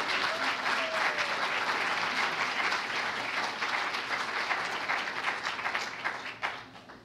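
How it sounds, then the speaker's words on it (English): An audience at a small business challenge event applauds its sponsors, a full sustained round of clapping from a large crowd, steady throughout and thinning slightly near the end. "Let's give all those sponsors a round of applause."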